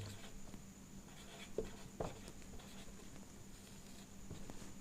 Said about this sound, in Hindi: तो पोषक पदार्थों में मैं लिख रहा हूं कार्बोहाइड्रेट